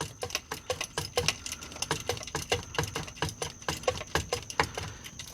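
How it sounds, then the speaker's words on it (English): Rapid ratcheting clicks from a wrench working a starter bolt loose on a 2013-19 Kia Soul, a steady fast rhythm of sharp close ticks with no talking. "now you can literally just keep going like that with the wrench"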